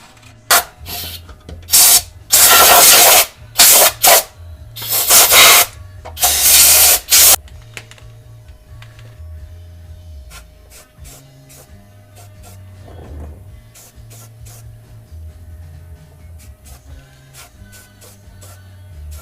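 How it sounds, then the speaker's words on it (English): Bursts of aerosol spray paint hiss in several loud blasts over a rusty 1969 Road Runner frame rail during repair, then give way to quieter workshop handling sounds and faint clatter. "I'm just going to hit it with some paint, further protect it"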